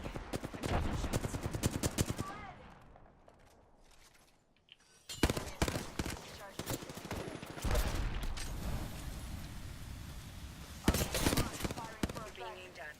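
Gunfire in the battle royale shooter Apex Legends crackles in rapid bursts, loud and near, broken by a quieter lull, with a voice talking under the shots.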